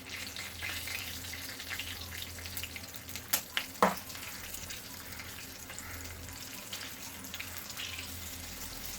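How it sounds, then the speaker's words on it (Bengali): Radhuni seeds and green chillies tempering in hot oil give a soft, steady sizzle, with a brief burst of sharp clinks and a splash partway through. "এর মধ্যে ফোড়নে দেবো রাঁধুনি রাঁধুনি দিয়ে দিলাম কাঁচা লঙ্কা দিয়ে দিলাম"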